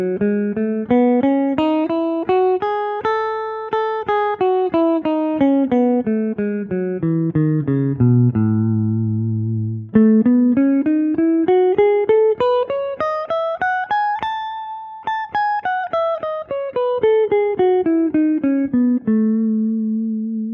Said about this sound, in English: Now, the Lydian scale is going to sound something like this.